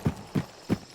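A horse in the video game Hunt: Showdown, three evenly spaced hoof clops within a second, dull and fairly near, with no talk over them.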